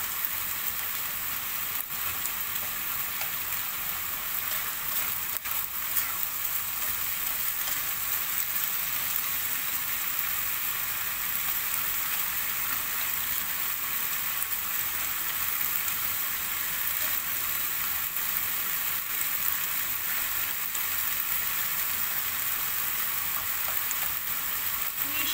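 Ground meat for meat pies fries and sizzles steadily in a pan, a dense, even crackle that carries through the whole stretch without a break, with occasional faint stirring.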